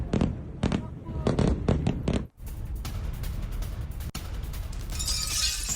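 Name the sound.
airstrike explosions at Beirut international airport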